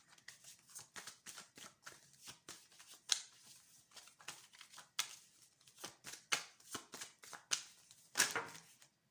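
Tarot cards being shuffled and drawn by hand: a close, quiet series of crisp riffles, slaps and flicks in an uneven rhythm, with no talking.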